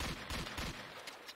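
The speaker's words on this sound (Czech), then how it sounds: "Ale střílí to teda mega rychle tam brokovnice" Rapid shotgun blasts in the game Putrefaction 2: Void Walker, a quick burst of several punchy shots in succession at moderate loudness, tapering off near the end with no talk.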